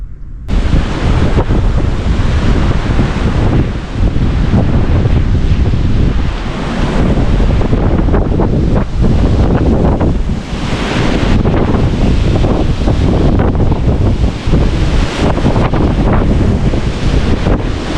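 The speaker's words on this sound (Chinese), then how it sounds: "特别大的风啊" Strong wind roars and buffets continuously at close range, loud gusting noise with a rushing, surf-like texture and no voices.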